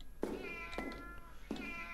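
A cat meows three times in the video game SOMA, the calls evenly spaced and fairly close over a steady, faintly humming background, with no talking.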